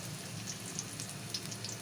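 Chopped onion and garlic frying in a pan for a bottle gourd and prawn curry, a soft, continuous sizzle with scattered faint crackles, heard alone and close.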